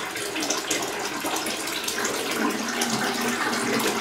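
Tap water runs steadily as conditioner is rinsed from virgin hair weave extensions, a constant close splashing rush with no voices.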